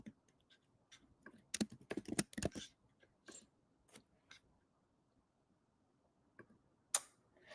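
Keys tapped on a computer keyboard in short irregular bursts, with a few louder isolated clicks spaced between quieter stretches, close and fairly soft with no talking.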